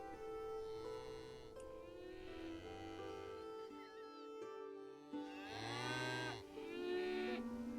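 Cows mooing in the city-building game Songs of Syx, several long drawn-out moos in a row, loud and close, with short pauses between calls and no talking.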